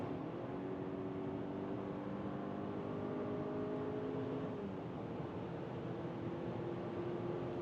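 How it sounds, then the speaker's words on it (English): A BMW X3 or Mercedes GLC SUV drones steadily at about 130 km/h, engine pitch rising slightly as it accelerates, with constant road and wind noise throughout. "Here now at 130 kilometers an hour, let's accelerate even further."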